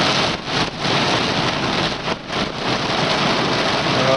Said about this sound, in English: They just sit and dump torrential amounts of rain.